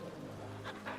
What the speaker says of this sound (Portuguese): Esse é meu cachorro.